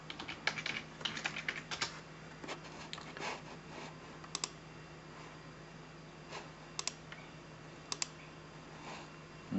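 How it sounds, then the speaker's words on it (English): Light, close keystrokes on a computer keyboard as a command is typed: a soft run of clicks early on, then scattered single taps over a quiet background hum. "so I'm just going to type it in."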